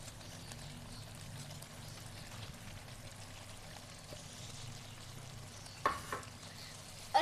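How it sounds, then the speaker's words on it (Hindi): Drumstick pods (suhanjna) go into a pot of cooked chicken curry, under a low, steady simmering sizzle, with a couple of soft thumps and clatters near the end. "अब हम इसके अंदर सुहांजना डाल देंगे।"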